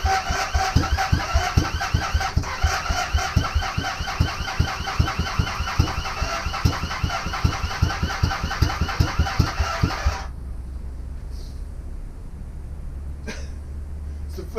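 A Honda Superdream motorcycle engine cranks and fires in a fast, loud chugging rhythm that stutters unevenly for about ten seconds, then cuts out abruptly, leaving a low hum and a couple of faint knocks.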